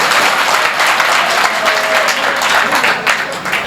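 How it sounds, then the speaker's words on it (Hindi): Loud, dense applause from the audience at a comedic Hindi poetry gathering (kavi sammelan), a continuous roar of clapping filling the whole stretch. "ताली बजा दे सर आप जोरदार भाई।"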